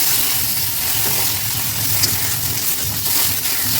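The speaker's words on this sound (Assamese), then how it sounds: "এতিয়া দিলোঁ মই ঔটেঙাখিনি অলপ ভাজি ল'লে মানে কেঁহা নালাগে" Elephant apple slices frying in a pan give a steady, dense sizzle with faint crackles and an occasional soft clink, and no voices.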